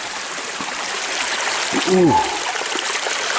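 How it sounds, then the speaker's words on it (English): Water from one small creek trickles and burbles steadily throughout, with a brief voiced exclamation rising over the flow near the middle. "This is just one little creek, you know?"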